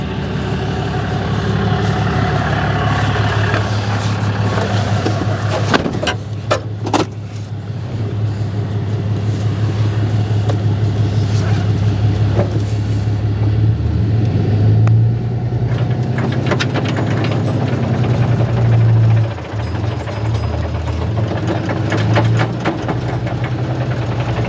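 An old International farm tractor that has sat unused for years runs with a steady low engine rumble, close and loud, its note rising and surging briefly now and then.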